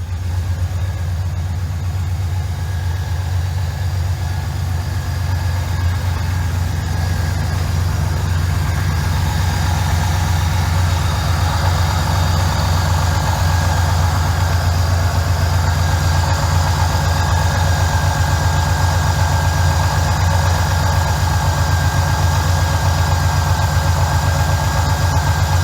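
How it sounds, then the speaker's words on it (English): A stock 1996 LT1 V8 idles steadily and close up, a smooth, quiet, even rumble that holds for the whole stretch with no revving or talk. "the stock motor is nice and quiet."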